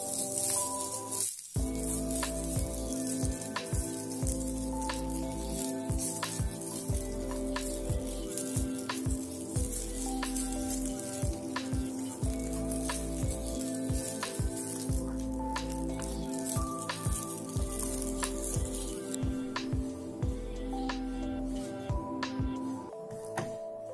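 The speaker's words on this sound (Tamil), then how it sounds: "இப்ப இந்த தேங்காய் துருவல் போட்டு இதையும் நல்லா ப்ரௌன் ஆன வரைக்கும்" Grated coconut fries in a pan with a steady, crackling sizzle, dotted with frequent small pops and scraping stirs, and continuous background music plays throughout.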